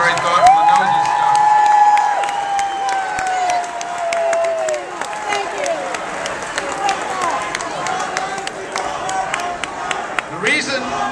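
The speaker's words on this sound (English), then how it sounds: "how about a round of applause for Jim Moran" Audience applause for congressman Jim Moran at a health care reform event, clapping and scattered cheers from a crowd, with whistles and shouts over the steady patter.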